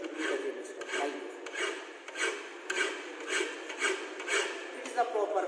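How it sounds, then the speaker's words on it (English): A hand file rasps across metal in a welding shop, giving about a dozen steady back-and-forth strokes in an even rhythm. The scraping is close and clear, with no talking over it. "It is the proper way of filing."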